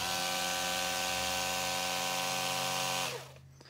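A Milwaukee M12 powered brush head runs with a steady, buzzing motor whine that holds constant, then winds down and stops near the end.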